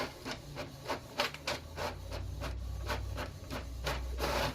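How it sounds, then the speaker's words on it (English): A printer prints a batch of shipping labels at close range, producing a rhythmic run of scraping, rasping feed strokes over a low mechanical hum. "Oh, that's my printer. I'm printing out 10 labels."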